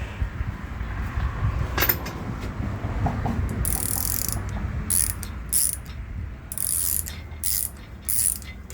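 A hand ratchet turns bolts while an engine is installed in a 1969 Camaro. It gives bursts of rapid metallic clicking against a steady mechanical background, with short pauses between the turns.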